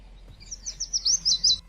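A bird chirps in a Godot game still in development, a short run of quick, bright tweets that rises into a clear trill of several notes over a quiet background.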